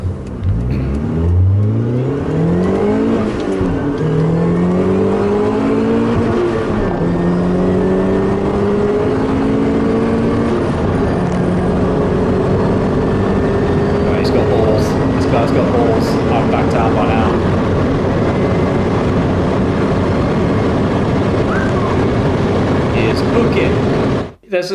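A turbocharged Mazda MX-5 NC fitted with a Mitsubishi TD04 turbo running 0.7 bar of boost accelerates hard. The engine note climbs and drops through repeated gear changes, loud and close, with a continuous whine over the exhaust roar.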